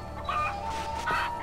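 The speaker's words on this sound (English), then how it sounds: "Come here, chicken." A chicken in the video game Far Cry 4 gives a couple of short, nasal clucks, moderately loud against steady game ambience.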